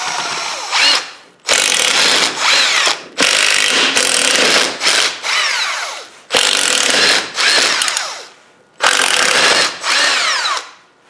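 A power ratchet or drill spins out 10mm bolts from the transfer case housing of a Jeep during a slip yoke eliminator install, in repeated loud whirring bursts of one to two seconds with short pauses between, close up and with no talking.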